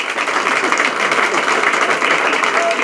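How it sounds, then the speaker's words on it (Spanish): An audience claps for a guest at a political event in Montevideo, with a brief dense burst of applause at steady loudness throughout. "Roberto Elizalde, acá otra personalidad que le pedimos un aplauso para Roberto."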